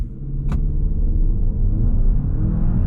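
A Kia, Hyundai or Genesis car held on the brake with traction control off builds a loud, steady low engine rumble as it launches from a standstill, with one brief click near the start.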